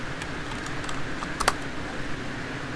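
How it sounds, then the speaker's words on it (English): Quiet typing on a computer keyboard in a room during a shared flight-simulator session, a few soft scattered keystrokes with one brief louder cluster of clicks over a steady low fan-like hum. "You may hear Jack doing some typing during this."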